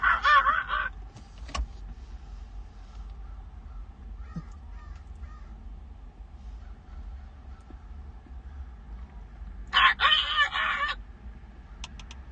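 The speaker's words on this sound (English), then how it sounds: "I hear the bird again right now" A crow caws outdoors in two loud, close bursts, one at the start and one near the end, over faint background rumble and with no talking.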